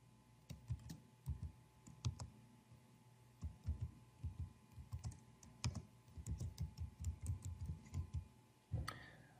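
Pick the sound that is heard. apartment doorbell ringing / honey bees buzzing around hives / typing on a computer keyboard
typing on a computer keyboard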